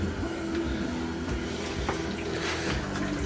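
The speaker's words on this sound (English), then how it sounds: "I'm gonna pull this drain plug" Fresh water drains out through a pulled drain plug in a continuous gurgling rush, steady and close, with faint splashes riding over the flow.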